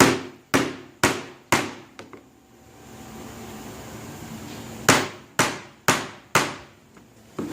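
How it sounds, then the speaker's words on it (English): Small ball peen hammer striking a car bumper: a run of four sharp metallic blows, a pause, then five more strikes at a steady, even rhythm, close and loud. "I'm going to use my smaller ball peen on this one. And I'm going to sit it right here again, and I'm just going to hit it."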